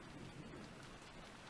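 Steady, dense rainfall with a low rumble beneath, a continuous wash of drops, no voices, heard as an ambient rain effect in the Umineko visual novel.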